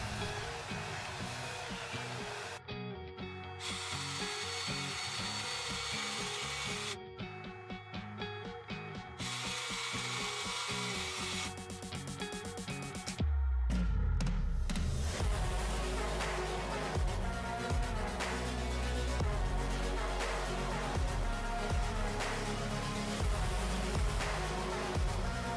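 A half-inch spindle sander smooths the curves of a wooden router template, a steady motor whine broken by short pauses, then a louder, rougher grinding as the wood is pressed against the spindle.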